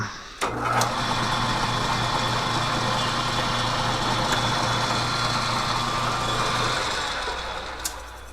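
A metal lathe takes a spring pass while cutting threads on an adaptor for a Harris Model D-85 mixer, running with a steady, continuous machine hum and whir that winds down near the end, with a few light clicks.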